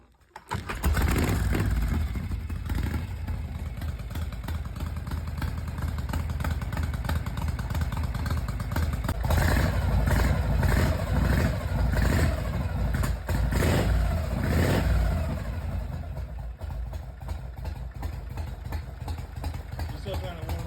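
A Harley-Davidson Panhead motorcycle engine is kickstarted and catches, settling into a loud, close, uneven idle with rumbling chugs and a few throttle blips, and someone talks over it.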